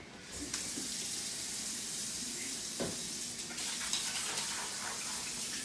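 Tap water runs steadily into a sink as hands are washed in a culinary knife-skills kitchen class, a continuous close splashing hiss lasting the whole stretch with small shifts in flow and no talk.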